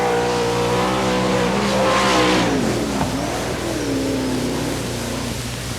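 A sprint race car in an All Star Circuit of Champions Winternationals event roars loudly past on a dirt track at Gibsonton, Florida, with a sustained engine note whose pitch sweeps down and then climbs again.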